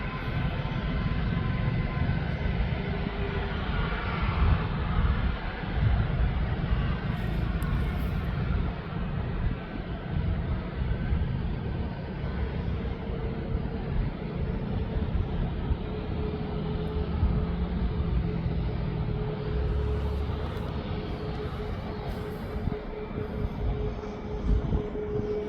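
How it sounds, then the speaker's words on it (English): A Ryanair jet bound for Fuerteventura rolls onto the runway at East Midlands Airport, a steady, broad roar of jet engines heard from a distance and holding level throughout, with a faint tone rising slightly toward the end. "This Ryanair to Fuerteventura is now entering the runway."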